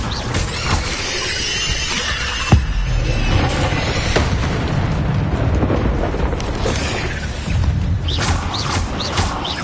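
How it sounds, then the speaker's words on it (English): A crackling, booming blast from the Expelliarmus spell in Hogwarts Legacy on PS5, a dense, loud wash of explosive noise with a sharp crack early on and continuing rumbling bursts throughout. "Expelliarmus!"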